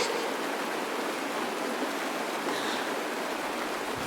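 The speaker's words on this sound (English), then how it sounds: "It's raining." Dense, even rain noise pours down continuously, a broad steady hiss with no pauses, in the video game Honkai: Star Rail (Penacony).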